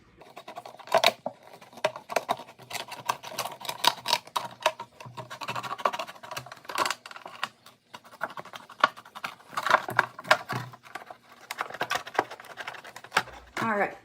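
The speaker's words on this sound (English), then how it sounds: "I found it easier in this step to just use scissors." Scissors snip and scrape through a plastic bottle being cut for a homemade bird feeder, with quiet irregular cutting clicks and crinkles close by while a person talks over them.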